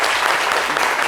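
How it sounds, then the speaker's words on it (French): A brief burst of applause, steady dense clapping from a group throughout. "Applaudissements pour eux, s'il vous plaît."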